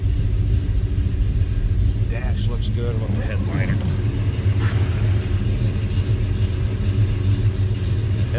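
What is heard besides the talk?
1971 Chevrolet Chevelle Malibu engine running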